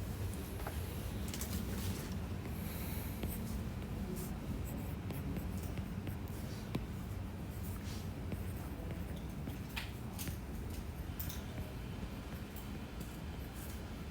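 Marker or chalk scratching on a board during a calculus lecture, with intermittent taps and strokes over steady room hum and ventilation noise, no voices.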